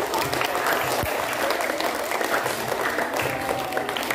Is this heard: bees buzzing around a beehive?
no